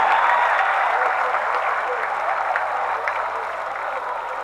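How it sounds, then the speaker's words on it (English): An audience at a live Caribbean comedy show applauds in a dense, steady burst of clapping that slowly fades, with no voices on top. "You're supposed to clap for that."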